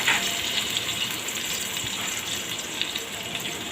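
Water poured into a pan of spiced beef liver being cooked into a Bangla-style bhuna, giving a steady close gush with light sizzling throughout, no voices.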